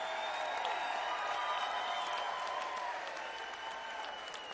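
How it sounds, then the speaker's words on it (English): Crowd applause and some cheering at a fight event for two debut fighters after a bout goes to the judges' scorecards, a steady, moderately distant wash of clapping. "big round of applause for both these guys"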